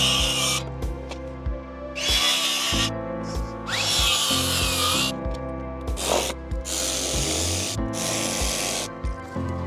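A heavy timber beam for a cabin entrance is cut with a power tool, loud bursts of rasping, whining cutting broken by short pauses, with a few knocks between passes.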